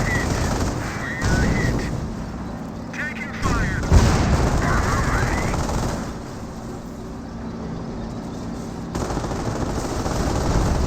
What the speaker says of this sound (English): Pershing now receiving quite a bit of fire.